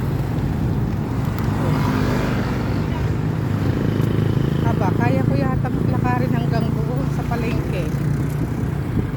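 A tricycle's small engine drones steadily along a hot street, with a constant road rumble throughout and a voice speaking over the motor partway through.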